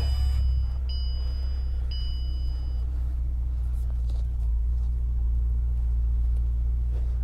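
A 2015 Bentley Continental GT Speed idles after a push-button start, a steady low engine rumble that holds evenly for about seven seconds with no revving.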